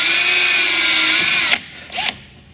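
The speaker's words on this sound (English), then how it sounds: "Drill through the cowling" A power drill bores through a fiberglass aircraft cowling, a loud high whine running steadily for about a second and a half, then cutting out, followed by a short second burst.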